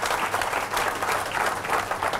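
A crowd at a motivational training session in Mumbai applauds, producing a continuous wash of clapping that swells and dips slightly throughout.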